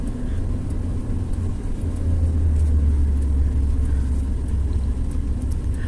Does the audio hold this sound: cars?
yes